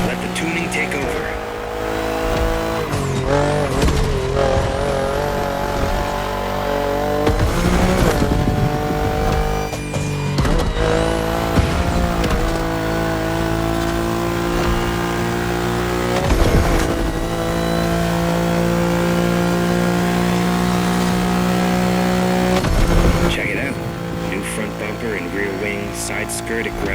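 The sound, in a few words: tuned BMW car driving in The Crew Motorfest video game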